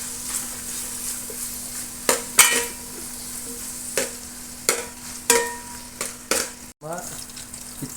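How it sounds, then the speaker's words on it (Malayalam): Chicken curry gravy stirred in a frying pan, a low sizzle underneath repeated close scrapes and clacks of a spoon against the pan, several sharp strokes spaced over a few seconds, with no talking. "നമ്മൾ ജസ്റ്റ് ഒന്ന് ഇങ്ങനെ ഇളക്കി കൊടുക്കാം"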